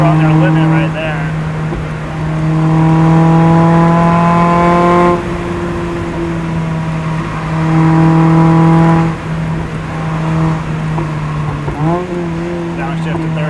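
A Mazda Miata's engine drones loudly from the cabin on a backroad drive, rising and falling in pitch through gear changes including a downshift, with revs sweeping up and dropping between shifts.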